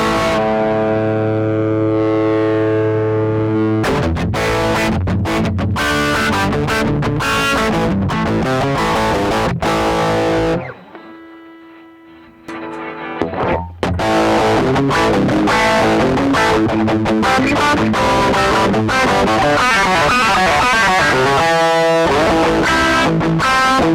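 Electric guitar through a Fender Dual Pugilist distortion pedal on channel A, loud and saturated, with sustained chords and chugging riffs, a brief near-silent pause midway, then dense playing again.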